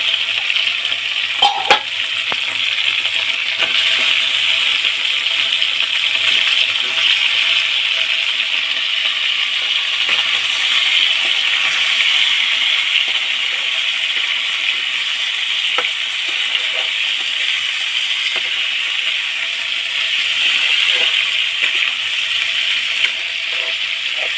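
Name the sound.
small cut potatoes added to frying meat in pot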